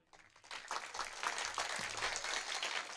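Crowd applause at a madrasa's annual results and prize-giving ceremony: a steady wash of many hands clapping together, building quickly and holding at a moderate level throughout, with no voices on top.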